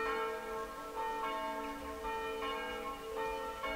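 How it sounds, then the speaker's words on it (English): Church bells ringing in the English countryside, a steady peal of repeated strikes with long overlapping hum, moderately distant and continuous. "You can hear the church bells ringing."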